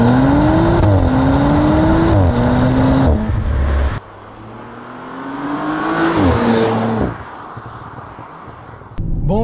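An Audi RS5 with a V6 biturbo engine accelerates hard, its engine note climbing through gears with a brief drop in between, then another loud rising pull with rushing wind before cutting off, close and powerful.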